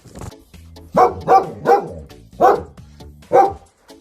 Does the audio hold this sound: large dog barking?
yes